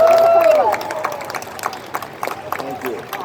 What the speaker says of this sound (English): let's give this crowd a round of applause